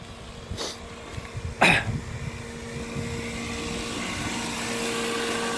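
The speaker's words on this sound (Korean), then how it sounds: "모터가 돌아가는 소리가 들렸는데" An irrigation water pump motor runs in an open-field vegetable garden. It gives a steady droning hum that builds slightly over time, with a couple of brief louder bursts near the start.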